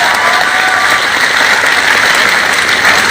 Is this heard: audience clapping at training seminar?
yes